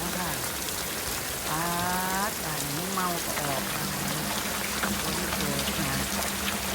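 A dense, continuous roar of heavy rain fills the scene, with a voice speaking briefly in Thai over the downpour.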